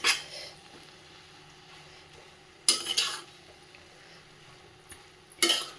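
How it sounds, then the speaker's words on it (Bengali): Sweet mixture being stirred in a cooking pan at home, the spoon scraping in three brief, bright bursts spaced a few seconds apart over a quiet kitchen background. "তা এখনও এটা একটু নাড়তে হবে।"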